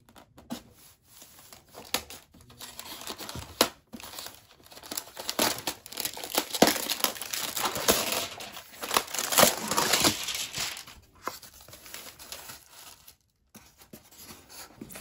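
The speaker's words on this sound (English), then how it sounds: "then rip the plastic off." Stiff plastic packaging around a budget airsoft sniper rifle, an M40A3 Sportline, is torn and ripped open: close, loud crinkling and crackling in uneven bursts that swell mid-way, with sharp tearing snaps and no talking.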